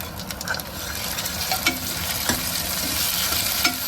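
Onions and tomatoes fry in a pan for mustard greens (sarson ka saag). A steady sizzle runs throughout, with occasional scrapes and taps of a stirring spoon, close and moderately loud.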